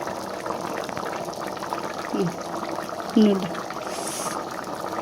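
A covered pot of mushroom curry simmers in water, giving a soft steady bubbling hiss with a couple of brief clinks, heard close while a person talks over it.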